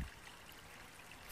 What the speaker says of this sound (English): Stream with a footbridge that's listed in AWOL's book as not a dependable water source, but it's running here